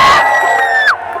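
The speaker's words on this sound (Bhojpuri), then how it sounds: "एक रोशन के लिए जोरदार हल्ला करके ताली बजा" A stage-show crowd cheers and whoops for performer Roshan in a short, loud burst of massed voices with a rising shout, fading slightly at the end.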